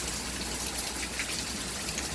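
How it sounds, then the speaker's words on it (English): Heavy rain pours steadily during Hurricane Michael, a dense, constant wash of water with a gusty, roaring texture, loud and close, no voices. "Lots of rain."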